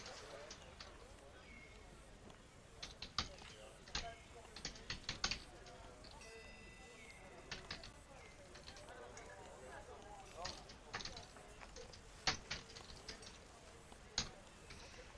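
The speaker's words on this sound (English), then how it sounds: "my little box is in the way of me typing" Fingers tap a computer keyboard in irregular quiet bursts of sharp clicks, close but faint, with voices talking in the background.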